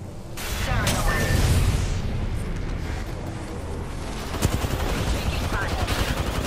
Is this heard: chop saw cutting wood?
no